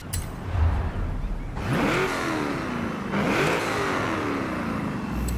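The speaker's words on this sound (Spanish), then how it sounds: "escuchemos cómo se escucha el Twin Turbo de stock" In Forza Horizon 5, a 2005 Vauxhall Monaro VXR with a stock twin turbo engine revs twice, each sharp rise sweeping up and falling back, with a faint whir under the revs and no talk.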